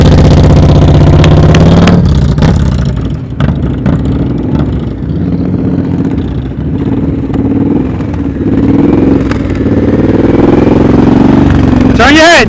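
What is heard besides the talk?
motorcycle engine revving during slow-speed riding practice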